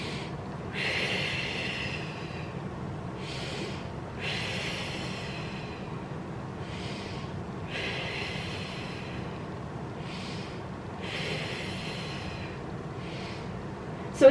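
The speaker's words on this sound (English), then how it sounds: "I breathe in." Slow, deep breaths drawn during a core-stabilizing back exercise, a series of soft airy inhale and exhale bursts repeating at a steady, unhurried rhythm, close and fairly quiet over a faint low background hum.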